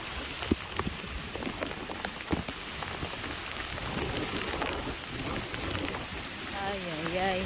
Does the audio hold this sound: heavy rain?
yes